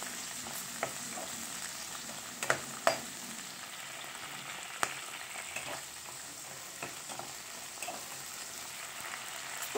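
Green chillies sizzle in a pan, softening as they fry, a steady close crackle with scattered sharper pops and occasional stirring, no voices.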